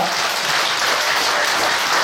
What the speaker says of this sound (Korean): 인사하고 들어가실 때 박수 좋아합니다